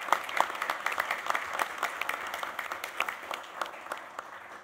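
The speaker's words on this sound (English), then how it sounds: "So let's give everybody a round of applause for what they've done." Audience applause at a board of regents meeting, a steady wash of many hands clapping at moderate distance for nearly five seconds, gradually thinning toward the end.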